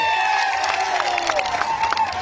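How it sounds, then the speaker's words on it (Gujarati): A crowd applauds and cheers at a political rally in Netrang marking Birsa Munda's 150th birth anniversary, with dense, steady clapping and shouts filling the whole stretch at close range. "જોરદાર તાળીઓ પાડી લઈએ"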